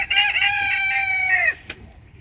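A farm rooster gives a single clear crow lasting about a second and a half, fairly close and alone, fading into quiet.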